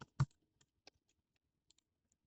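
A few scattered keystrokes on a computer keyboard, one sharper click followed by several lighter taps, quiet and close in an otherwise silent room.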